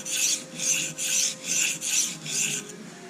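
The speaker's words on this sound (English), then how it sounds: "we are going to bring up a fairly heavy burr on this edge right now to get rid of that steel" Freehand sharpening of a steel knife edge to raise a heavy burr, six even rhythmic rasping strokes of steel on abrasive, close and clear with no talk.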